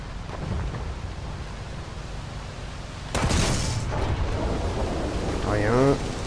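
Distant gunfire rumbles across a War Thunder tank battle, heard from a KV-1 756(r), as a continuous low roar with a sharp boom midway; a voice briefly sounds near the end.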